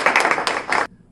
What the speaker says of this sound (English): So Sharon Addison, give her another round of applause.